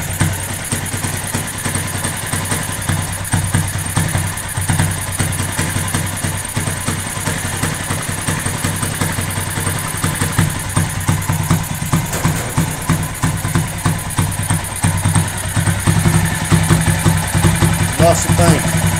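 A motorcycle engine rigged as a generator idles steadily throughout, its rough, noisy exhaust rumbling continuously at close range with no pauses.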